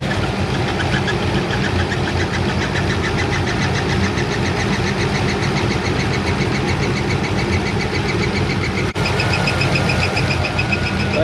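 A car engine runs steadily and loudly throughout, with a fast repetitive ticking or chirping layered over the drone that fits a worn pulley; there is a brief dropout near the end, and no one speaks.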